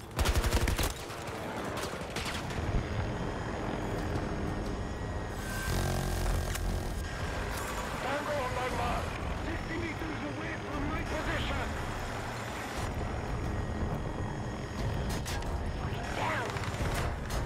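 An anti-aircraft gun fires in Battlefield 2042. Sustained rapid bursts of gunfire run almost without a break through a dense, noisy battle, with aircraft droning and players talking over it.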